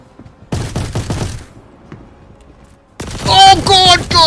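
Video game guards open up with bursts of gunfire, two close volleys of sharp cracks separated by a quiet gap, the second louder and mixed with a voice talking over it.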